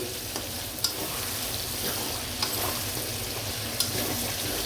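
Chicken masala with yogurt sautéing in a home kitchen pan, a steady close hiss of frying with a few light scrapes of stirring spread through.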